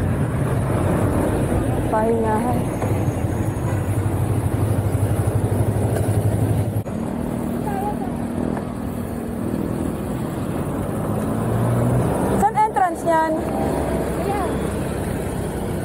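Busy street traffic with many motorcycles passing, a steady engine drone with rising and falling motor whines, heard from a moving bicycle on a long ride from Cavite to Quiapo, with occasional talk over the noise.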